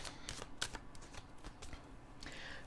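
Tarot cards shuffled by hand in a soft, quick riffling patter of short flicks and slaps, close but quiet, with no talk over it.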